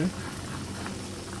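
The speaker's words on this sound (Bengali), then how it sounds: "দেখুন কতটা সময় ধরে আমি ডিমটা রান্না করছি।" Egg curry simmers and bubbles in a pot on the stove, a brief steady burble of boiling liquid heard up close.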